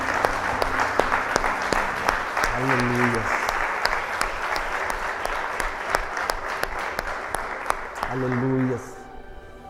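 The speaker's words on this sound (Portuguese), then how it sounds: "Aplauda Jesus." A church congregation claps steadily and continuously at close range, with sung or chanted voices rising over the applause twice.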